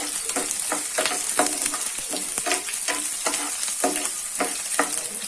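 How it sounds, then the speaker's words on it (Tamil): Peeled garlic cloves frying in hot oil for a garlic dosa, a steady close sizzle broken by regular scraping stirs of a spatula across the pan, with no voices. "உரிச்சிட்டு இந்த மாதிரி எண்ணெயில் போட்டு நல்லா வதக்கிக்கோங்க."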